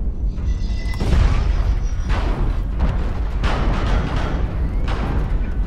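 Artillery strikes in the mech combat game MechWarrior Online land as a series of heavy booms and thuds, roughly one every second, each loud and rumbling over the continuous low drone of the battle.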